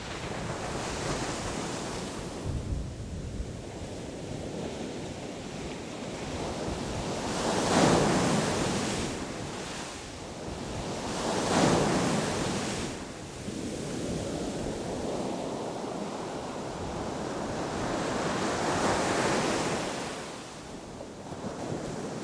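Sea waves breaking on the beach at Keta, a continuous roar of surf that swells and recedes in several broad surges, heavy and close with wind buffeting the microphone, no voices.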